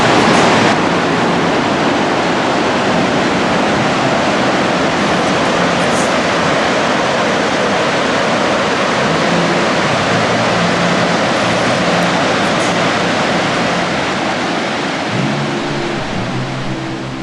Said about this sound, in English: The waterfalls empty into the Zambezi Gorge, which separates Zimbabwe and Namibia